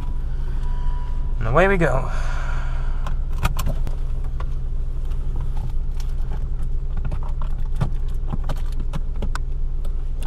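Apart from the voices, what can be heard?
car starting and driving away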